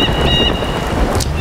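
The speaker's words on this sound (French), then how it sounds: "Regardez l'eau de pluie qui remonte au lieu de descendre là sur le dessous de ce rebord." Rain falls in the Tomb Raider 5 level La Potence as a loud, constant hiss of rain and wind, with a few thin tonal whistles above it and no voices.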